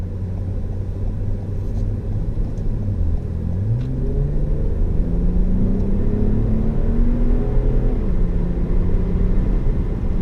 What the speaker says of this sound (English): Do you hear that engine?